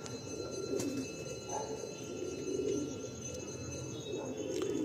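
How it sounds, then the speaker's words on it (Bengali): Bidari pigeons, a hen and a cock kept for breeding, coo softly and repeatedly against a steady background hum, with faint voices nearby. "এটা বিডারি পায়রা।"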